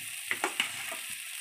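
Duck and chicken meat sautéing in hot spiced oil, giving a steady, even sizzle with a few sharp crackles and soft stirring knocks near the start.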